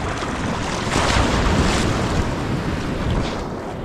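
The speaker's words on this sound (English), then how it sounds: "Those are some big waves." Big ocean waves break on a South Australian fishing beach, a loud continuous crashing surf roar with a swelling surge in the middle, buffeted by wind on the microphone.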